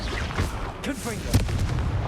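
A Confringo fire blast in Hogwarts Legacy, cast amid other spells, lands as a couple of short booming bursts with crackle, close and punchy, while a voice speaks over the action.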